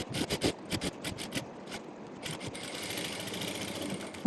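A sewing machine stitches a quarter-inch seam on saree fabric, short rapid bursts of mechanical chatter followed by a longer continuous run, close and moderately loud with no talk.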